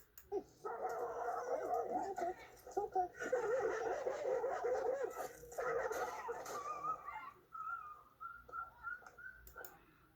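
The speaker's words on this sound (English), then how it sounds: "So where did that dog learn to do all that aggression and rushing and teeth showing?" An aggressive dog snarls and barks in rough, sustained bursts, then breaks into high, thin whimpering cries toward the end.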